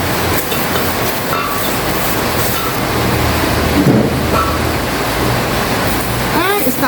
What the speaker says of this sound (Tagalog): Pero lumakas po ang ulan.